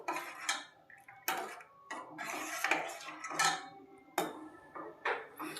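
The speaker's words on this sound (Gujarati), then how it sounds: "5 થી 7 મિનિટ માટે આપણે ધીમા ગેસે હલાવશું" A spoon stirring seviyan kheer in a pot over a low flame, giving repeated scraping and clinking strokes against the metal at an irregular rhythm, close and moderately loud with no voices.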